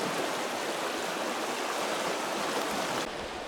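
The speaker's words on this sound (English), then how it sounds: "we come down here to the river to cross and go back a minute" Steady broadband rush of river water flowing on an Alaskan river crossing during a moose hunting float trip, loud and continuous with no pauses, easing slightly near the end.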